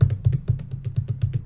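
Loud, clunky computer keyboard typed on quickly, giving a steady run of about a dozen heavy, thumping clacks close to the microphone with no talking.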